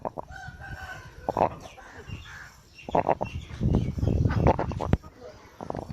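A rooster with an infected leg gives close, loud clucking and strained crowing calls in uneven bursts, with people talking in between.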